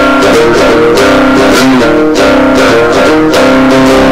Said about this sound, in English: So this is just the coil pickup made from the Wallwart.